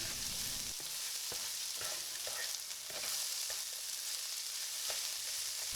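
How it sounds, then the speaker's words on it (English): Chopped jalapeño sautéing in a pan for a tomato salsa, a steady bright sizzle with a few soft stirring scrapes and clicks, close and continuous without any talking. "Then it's time to add the jalapeno. You will sauté it for another minute."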